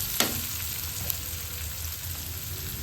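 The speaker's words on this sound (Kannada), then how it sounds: "ಈರುಳ್ಳಿ ಇವಾಗ ಚೆನ್ನಾಗಿ ಸಾಫ್ಟ್ ಆಗಿದೆ. ಒಂದು 5 ನಿಮಿಷ ಈ ಥರ ಫ್ರೈ ಮಾಡ್ಕೊಂಡ್ರೆ ಸಾಕು" Softened onions frying in a pan for a capsicum curry, a steady moderate sizzle with a couple of sharp spatula taps, a faint high whine running throughout.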